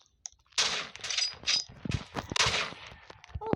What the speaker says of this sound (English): I'm shooting gun.